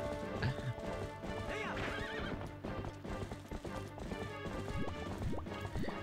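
Horse neighing and hooves clattering in Twilight Princess HD, a loud whinny over rapid galloping clip-clops with crashing game effects mixed in.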